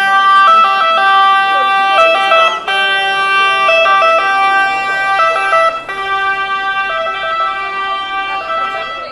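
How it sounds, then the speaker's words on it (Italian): Ambulance siren sounding continuously as the vehicle pulls away from a religious procession in Italy, a loud steady wailing tone with shifting pitch that holds for the whole stretch over background street noise. "Ecco l'ambulanza che riparte."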